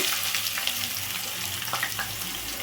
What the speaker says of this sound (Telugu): సన్నగా కట్ చేసి పెట్టుకున్న ఉల్లిపాయ ముక్కలు ఇవి కూడా బాగా వేగాలండి